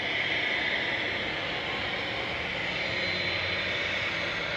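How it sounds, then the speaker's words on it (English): A Ryanair airliner taxiing at Manchester Airport produces a continuous, even jet engine whine and rush that stays level and fairly close throughout. "And the Ryanair just taxiing towards us,"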